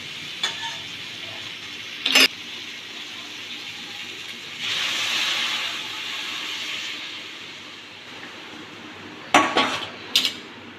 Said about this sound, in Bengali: এরপরে সোনামুখের ডাল সিদ্ধটা আমি ঢেলে দেবো এর মধ্যে